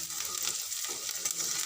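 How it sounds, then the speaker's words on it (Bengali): Onions fry in a pan with a close, even hiss of sizzling oil and faint stirring scrapes throughout, fairly soft, with no voices. "পেঁয়াজটা প্রায় ভাজা ভাজা হয়ে এসছে"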